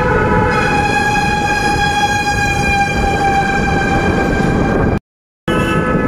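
A Kanpur metro train near IIT station drones loudly and steadily, a sustained tonal whine over a rumbling hum, the sound briefly cutting out near the end.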